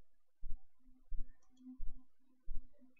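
A computer mouse clicks on a settings gear icon, giving four soft, close clicks at irregular intervals over a quiet background.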